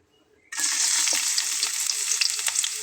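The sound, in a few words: chopped onion frying in hot mustard oil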